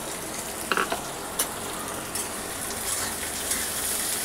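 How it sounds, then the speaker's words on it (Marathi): Onions fry in a hot pan for kanda poha, a steady sizzle broken by a few sharp clinks and scrapes of stirring. "आता आपण हे ना चांगलं फ्राय करून घेऊया लालसर."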